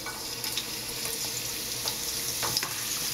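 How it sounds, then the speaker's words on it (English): Ginger hitting hot oil for a stir fry of Singapore fried rice, a steady bright sizzle and crackle with a few sharper pops, close and continuous with no talking. "The oil's hot. The first thing we're going to add is the ginger."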